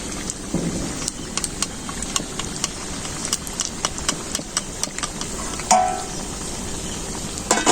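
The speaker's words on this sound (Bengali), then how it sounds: "এই তো পকোড়া ভাজছি চিকেন পকোড়া" Chicken pakoras frying in hot oil, a steady broadband sizzle with frequent sharp pops and crackles, loud and close, with a brief clatter of a utensil near the end.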